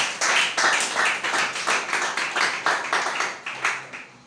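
A church congregation clapping in steady rhythm, about a dozen sharp claps in quick succession, close and loud, with no talk over it.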